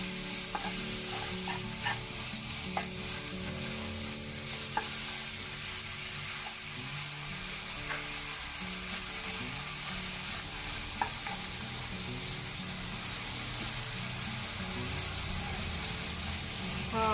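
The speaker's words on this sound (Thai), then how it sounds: "ผัดไปเรื่อยๆ" Vegetables and ingredients stir-fried in sesame oil for a soft tofu stew, a steady close sizzle and hiss throughout with the spatula scraping and stirring in an unbroken rhythm.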